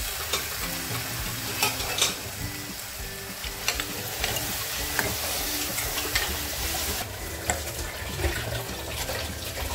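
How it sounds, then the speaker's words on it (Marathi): Mutton pieces frying and being stirred in a masala in a village-style kitchen, a steady close sizzle broken by repeated scraping stir strokes and occasional clinks, with no talk. "चांगलं फ्राय करून घेतोय त्याला त्या मसाल्यात."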